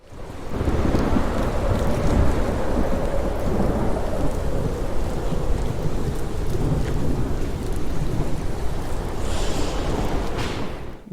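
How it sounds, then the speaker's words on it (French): A heavy nighttime thunderstorm shakes a house, with loud continuous rolling thunder and dense pouring rain sustained throughout, close and full without pause. "Une nuit, une grosse tempête secoua la maison."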